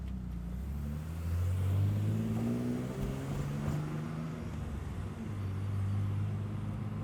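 Toyota Supra engine and road noise while driving through Luxembourg city centre, a steady mid-pitched hum that swells as the car accelerates, then settles and rises again.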